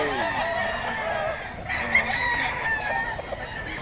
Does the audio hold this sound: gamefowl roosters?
yes